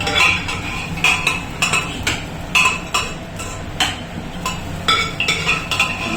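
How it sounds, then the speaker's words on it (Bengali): A metal spatula clinks and scrapes against a pan while ingredients are fried for khichuri in a home kitchen, steady repeated sharp clinks over a low sizzle, close and fairly loud. "ও, তুমি আগে ফ্রাই করে নিচ্ছ সব?"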